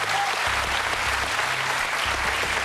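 Loud, dense applause from the studio audience of a French-language televised quiz show, steady and close from start to finish.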